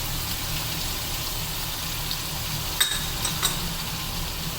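Aloo baingan sabzi with tomato, salt, turmeric, cumin and red chilli powder is stirred in a pan, a constant bright sizzle with a few soft spoon scrapes near the end.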